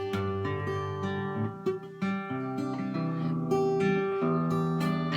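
Guitar strings picked with the fingertips in a run of many separate notes, played close and clear with no talking, each pluck ringing into the next.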